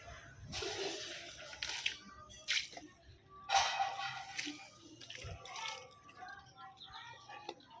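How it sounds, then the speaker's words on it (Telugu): Water poured onto potted flower plants to soak the soil, heard as intermittent splashing and trickling bursts close by, pausing between pours, with faint background noise. "సో ఇలా మనము అన్ని మొక్కలకి ఈ వాటర్ని అందించేసుకుందాము"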